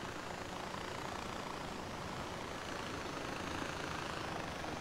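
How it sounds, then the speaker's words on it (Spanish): Helicopter rotor and engine noise from the video game Far Cry 4 forms a steady, quiet, broadband whir that holds throughout. "prefiero coger el helicóptero porque voy más rápido"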